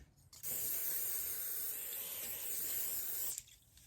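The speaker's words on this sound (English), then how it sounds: "here's all my parts, every little tiny piece that we took apart, and I'm going to spray them." Cleaner is sprayed onto disassembled Glock handgun parts in one continuous, close hiss lasting about three seconds, with quiet room tone before and after.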